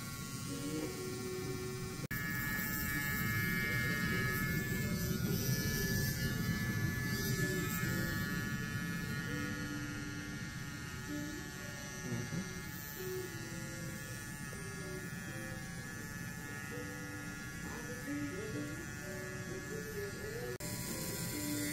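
A five-needle tattoo machine buzzes steadily in a tattoo studio during a first wrist tattoo. The close, constant electric hum runs for the whole stretch, with faint chatter in the background.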